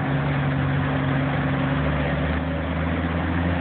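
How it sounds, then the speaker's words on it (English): A 1941 GMC military truck pulling a one-ton trailer rumbles past in an airshow vehicle parade, a steady low engine drone with even hum throughout. "1941 GMC, owned by Vladimir Zalewski from Czechoslovakia."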